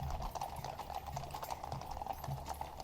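Large black horses of the Blues and Royals clip-clop along during the Changing of the Guard at Buckingham Palace, a steady stream of overlapping hoofbeats on pavement, moderately close, with no voices.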